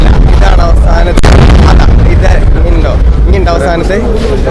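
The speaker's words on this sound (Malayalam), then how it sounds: "ഇല്ല, അതായിരുന്നു അവസാനത്തെ വെടി" The final firework blasts of the Thrissur Pooram festival in Kerala boom and crackle loudly near the start, then give way to a busy crowd whose voices fill the rest of the stretch.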